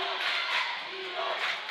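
A crowd at a girls' high school basketball game cheers and roars with excitement, a broad, steady wash of voices heard from a distance in a gym.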